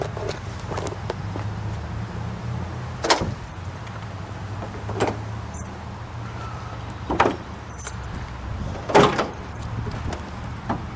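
The hood of a 1970 Oldsmobile 442 Pace Car Convertible with a 455 engine is opened: a series of separate metallic clunks and latch clicks spaced a few seconds apart over a low background hum.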